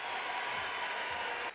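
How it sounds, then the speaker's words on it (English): Arena crowd at a college basketball game between Auburn and Vanderbilt cheering and applauding steadily, a dense roar of clapping and shouts that fades out at the end. "The crowd goes crazy"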